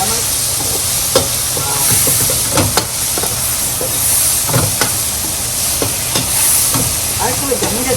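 Beef chuck simmering in a pan with water and salt gives a steady bubbling hiss and sizzle, punctuated by occasional scraping stir sounds, close and fairly loud, with no voices.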